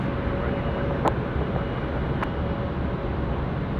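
An airliner in Star Alliance livery at Sydney Airport gives a steady, even jet-engine roar at moderate distance, with a couple of faint ticks and no change in level.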